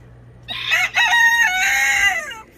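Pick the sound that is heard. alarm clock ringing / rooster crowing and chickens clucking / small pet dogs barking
rooster crowing and chickens clucking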